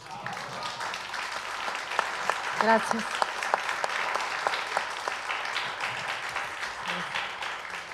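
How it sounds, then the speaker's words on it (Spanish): Scattered audience applause at a small café film talk with a writer-director, lighter clapping with distinct individual claps standing out, and a voice briefly speaking over it partway through. "Un aplauso"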